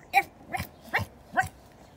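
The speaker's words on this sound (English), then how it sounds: "Okay Jess, so this is the Dalmatian you met last time" Dalmatian puppy giving four short, sharp yaps spaced evenly across two seconds, close and fairly quiet against a faint background.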